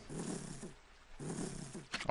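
A dog growls in the video game Okami, giving two low, rumbling snarls that are fairly faint, with a brief noisy rustle at the end.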